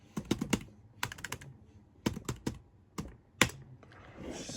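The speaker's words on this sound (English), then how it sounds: "You can't not just completely decimate your keyboard when typing FreeBSD commands" Fast bursts of clicky keystrokes on a computer keyboard while entering FreeBSD commands, coming in quick clusters separated by short pauses, close and crisp.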